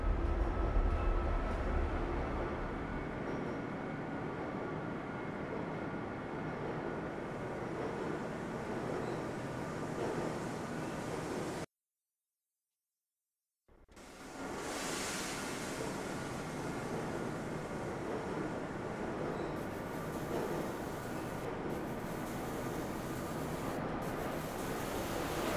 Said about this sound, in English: This train is inbound from level 3 dormitories.